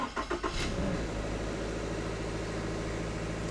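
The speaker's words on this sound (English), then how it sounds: "get the car started first," A Toyota GR86 engine starting early in the morning: a brief stuttering crank, then it catches with a quick rev and settles into a steady, fairly loud idle heard up close.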